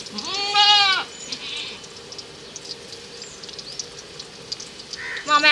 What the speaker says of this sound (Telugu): మా మేకలు అయితే ఇప్పటికే చాలు, ఎవరి ఇంటికి పడితే వాళ్ళ ఇంటికి పోతున్నాయి